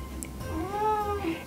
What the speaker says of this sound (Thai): แมวมันมาถ้าเกิดมีเสียงถ้ามีเสียงแมวเข้าไป